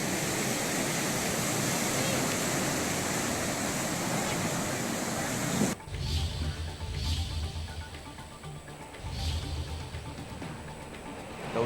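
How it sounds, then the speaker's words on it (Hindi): Floodwaters of the Gaula river in Haldwani, Uttarakhand, swollen by heavy rain, give a loud, steady roar of rushing water for about six seconds, then drop to a quieter, uneven stretch. "हल्द्वानी में गौला नदी ने दिखाया है रौद्र रूप।"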